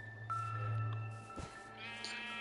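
A Minecraft sheep bleats once, a brief wavering cry over a quiet low drone, faint and alone, with a small click partway through.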